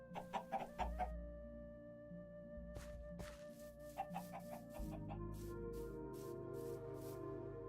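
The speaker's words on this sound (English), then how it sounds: "That's why you hear chickens clucking when you walk in here." Chickens on leads in the roof of a Minecraft survival base cluck in quick, irregular bursts, several birds overlapping, followed by more spaced clucks over a low steady hum.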